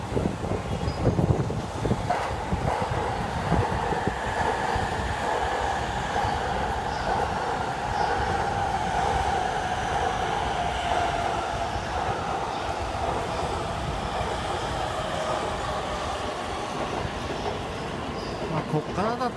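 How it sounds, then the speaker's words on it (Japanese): A Yamanote Line train, one of several Pokémon-wrapped trains, passes through a station with a steady, loud rumble of wheels and carriages that runs the full length, faint wheel squeal above it and voices talking nearby. "山手線通過中ですよ。"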